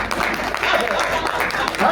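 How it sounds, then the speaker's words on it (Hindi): Audience at a Hindi kavi sammelan poetry gathering claps, a steady mass of applause with voices talking and calling out over it. "दोनों पल्ले तालियां देखो, कम मत बजाओ"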